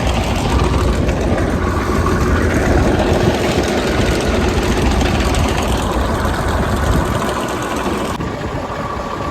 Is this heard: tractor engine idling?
yes